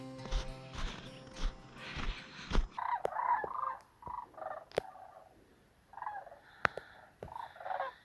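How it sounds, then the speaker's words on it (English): Sandhill cranes give rattling, rolling calls in bursts, somewhat distant and outdoors, following a short stretch of rustling noise at the start. "Sandhill cranes."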